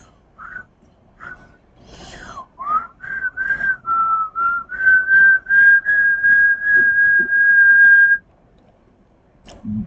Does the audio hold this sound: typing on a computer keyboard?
no